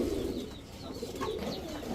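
Racing pigeons, a Python-blood pair among a Black Checker Maxi racer stock, coo in soft repeated rolling calls close by, several birds overlapping in a steady murmur with no talk.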